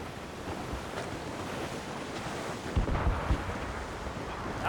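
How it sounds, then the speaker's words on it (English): Stormy sea in the Assassin's Creed Rogue game: a continuous roar of surf and gusting wind around a sailing ship, with a couple of heavier wave crashes near the end. "That storm could be dangerous."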